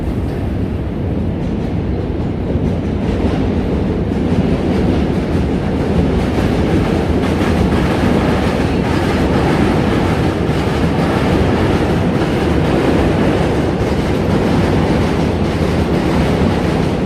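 Trains rumbling across the Manhattan Bridge in DUMBO, Brooklyn, a loud, continuous roar of wheels and steel that fills the scene without letup, heard from the street below.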